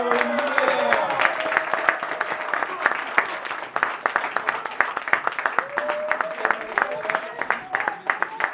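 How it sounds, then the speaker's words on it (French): Steady applause from an audience at a slam poetry final, dense clapping throughout with a voice faintly talking over it. "un applaudit pour commencer ce truc, Bruno"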